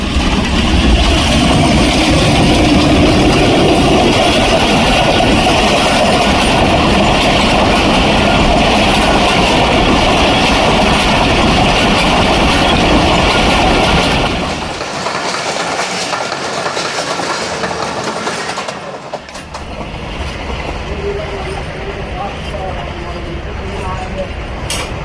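A train passes through Nur Junction in Pakistan, its loud, close rumble and rhythmic wheel clatter running continuously before easing and shifting character in the last ten seconds.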